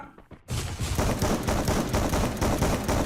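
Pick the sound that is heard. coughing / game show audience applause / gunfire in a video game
gunfire in a video game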